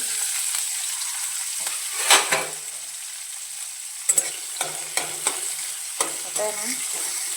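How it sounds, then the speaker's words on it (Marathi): Garlic and green chilies sauté in a pan with a steady oily sizzle, broken by several sharp spatula scrapes and clinks as they are stirred, with no voices. "भेंडी हे मिरची ना चांगली परतून घेते आणि लसूण पण चांगला परतून घेते"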